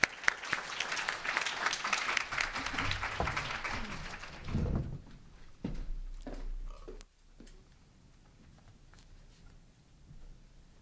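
Audience applause welcoming panelists at a talk on House/Wife and The Feminine Mystique, a dense burst of clapping for about four seconds that thins to scattered claps and quiet room noise.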